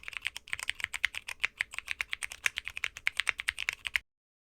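Rapid, steady typing on a mechanical keyboard fitted with Cherry MX Purple switches, crisp close-up keystrokes in a dense rhythm for about four seconds before stopping abruptly.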